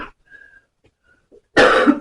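A single harsh cough bursts out after a stretch of near silence with a few faint, small sounds.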